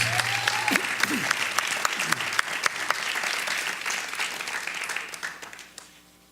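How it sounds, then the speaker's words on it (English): A live audience at a Miami group monologue performance applauds for T. Willard Fair, a dense, steady round of clapping that carries for several seconds before tapering off near the end. "Ladies and gentlemen, let's give him a nice round of applause."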